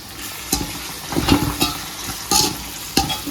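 Chicken fries in a pan with mint and coriander, sizzling steadily under loud, irregular scrapes and clatters of stirring, close and with no talking.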